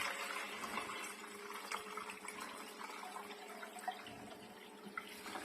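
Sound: water poured over white yeast from turnip juice

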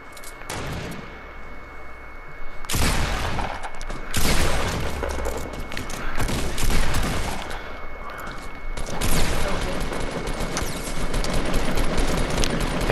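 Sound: gunfire in Fortnite video game

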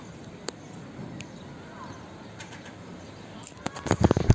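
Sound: seagull landing on a roof

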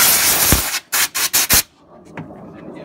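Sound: compressed air spraying

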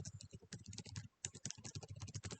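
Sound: typing surname on computer keyboard

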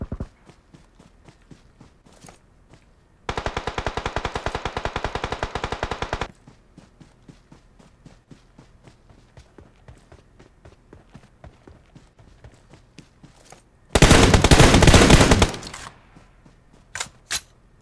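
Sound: gunfire in video game BGMI

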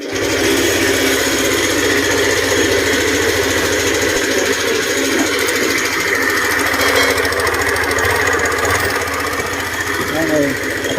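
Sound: scooter engine running with abnormal loud noise

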